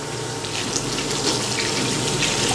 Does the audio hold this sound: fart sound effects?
no